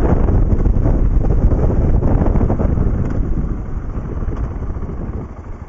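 A 2009 BMW G650GS motorcycle on the move gives a steady engine drone under heavy wind buffeting on the microphone, loud and close, easing slightly toward the end.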